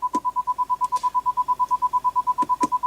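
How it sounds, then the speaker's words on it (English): Rear parking sensor of a 2017 BMW X3 beeping: a rapid, steady train of clear electronic tones, close and loud, with a few faint clicks behind. "And you also do have rear parking sensors, as you can hear it right now."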